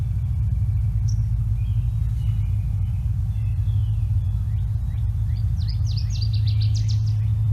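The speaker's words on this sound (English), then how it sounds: "that's the song of the northern water thrush" A northern waterthrush sings faintly at a distance, its thin chirps speeding up into a quick series near the end, nearly buried under a loud, steady low rumble.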